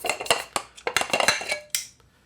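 A loose light reflector clatters and rattles in a Bowens mount on a Sokani X60 video light, a quick run of sharp metallic knocks and clinks like pots and pans, close and alone.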